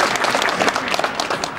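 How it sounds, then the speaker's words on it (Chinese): Dense, steady applause from an audience at the opening ceremony of a painting exhibition, many hands clapping close by without a break. "我们给点祝福的掌声吧"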